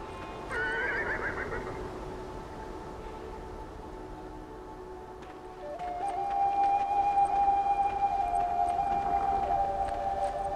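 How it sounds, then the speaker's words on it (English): Horses neigh and whinny in the video game Beyond Two Souls, one call early on and a longer, louder whinny later over a quiet background ambience, with no one talking. "Hello, horse. Can we feed the horses?"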